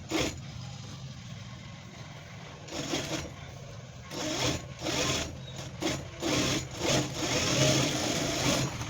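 A sewing machine stitches a blouse in bursts of steady mechanical whirring. Short pauses fall between the runs, and the stitching grows more frequent toward the end over a constant low background hum.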